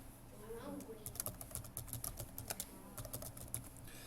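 Typing on a computer keyboard, a quick irregular run of light clicking keystrokes, close and fairly quiet, with a faint voice briefly underneath.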